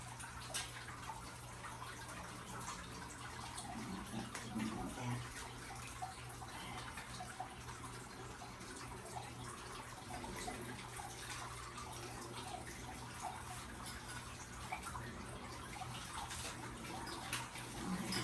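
Water trickling and splashing steadily in a three-tier fountain bird bath outdoors, a faint continuous flow with light drips and no talk.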